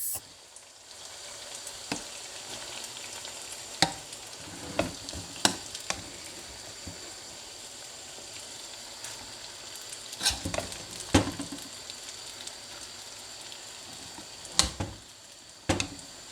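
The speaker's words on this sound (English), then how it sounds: "It's time for me to start frying it." Nigerian fried rice frying in a pan, a steady close sizzle with occasional sharp scrapes and taps of stirring, no voices over it.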